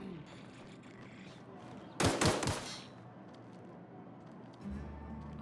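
A short, sharp burst of rapid gunfire rings out over a low, steady ambient hum in The Outer Worlds, with no talking.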